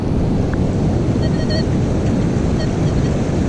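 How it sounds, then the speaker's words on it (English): Strong ocean water rushes and churns along a beach during hurricane conditions, a dense continuous roar of surf and current with wind buffeting the microphone, no voices. "Water is ripping pretty good right here."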